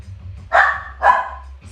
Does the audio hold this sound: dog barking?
yes